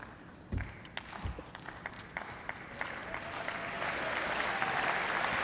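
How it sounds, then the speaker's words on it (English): A Massachusetts tennis crowd at a professional match applauds from a distance. A few sharp thuds come early, then the clapping swells gradually into a sustained ovation. "a little encouragement from this Massachusetts crowd for the Springfield native, Tim Mayotte"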